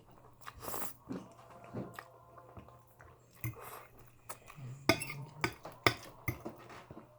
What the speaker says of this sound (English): I'm just gonna record myself eat like a real mukbanger.